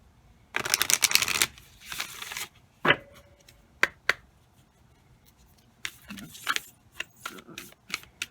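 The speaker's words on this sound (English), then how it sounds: "I will pull a Moonology card." An oracle card deck from the Moonology set is shuffled in a loud, close riffle burst, followed by scattered sharp card snaps and flicks as a single card is pulled, with quiet gaps between.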